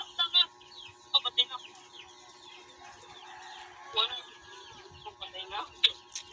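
Chickens cluck in a video game: short, bright clucks come in scattered bursts over a faint steady background tone, fairly quiet overall.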